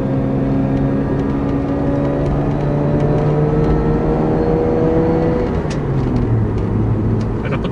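A car engine revs hard on a highway, pulling to high RPM before easing and climbing again in the next gear, with a steady loud drone and rising harmonic tones throughout, no voices.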